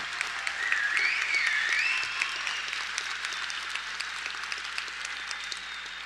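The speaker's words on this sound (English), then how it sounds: "give yourselves a big round of applause" Sustained applause from a graduation ceremony audience celebrating the class of 2025, a dense wash of clapping from many hands that swells in the first two seconds, then holds steady and fairly loud.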